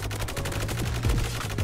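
Honey Badger gun in Roblox Energy Assault firing rapid, steady bursts of close, loud automatic shots over continuous game noise.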